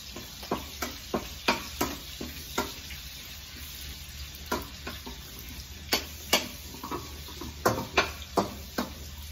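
Garlic sautéing in a pan, a soft steady sizzle under a string of sharp spatula taps and scrapes at an irregular pace, close and fairly quiet.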